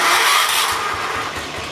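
John Deere 212 lawn tractor engine, after carburetor adjustment, catching and running on its own with a steady, loud mechanical drone close by and a slight rhythmic pulsing underneath.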